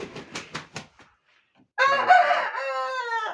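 A few sharp clucks and scuffs, a brief silence, then a young rooster lets out a loud, strained crow that trails off hoarsely, after two days of rain.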